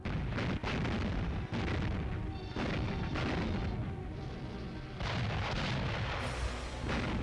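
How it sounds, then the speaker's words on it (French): Artillery fire around Gravelines during the 1940 Dunkirk evacuation, rendered as a sustained loud barrage of heavy booms and rumbling blasts that repeat throughout with no talk. "Sur la route sud, ils passent à portée de l'artillerie positionnée autour de Gravelines."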